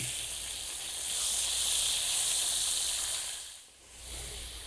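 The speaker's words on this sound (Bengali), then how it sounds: "একটু পানি দিয়ে দিচ্ছি" Water poured into a hot pan of frying chicken for a curry bursts into a loud, close steam hiss that swells, dips briefly near the end, then rises again.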